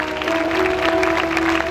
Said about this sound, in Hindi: खुदा के जलाल के लिए जोरदार तालियां बजाएं।